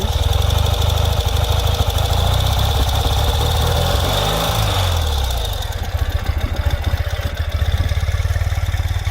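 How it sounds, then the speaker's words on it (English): The engine of a 2020 Ural Gear Up motorcycle runs steadily close by, rising through a rev in the middle before settling back to a throbbing idle. "Give it a little rev for you, and you can hear the bike run through the RPMs."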